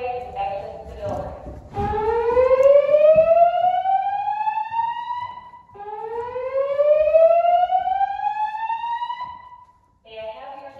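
A dorm building's fire alarm during a test: two loud rising siren whoops, each sweeping upward for about four seconds, with a brief break between them.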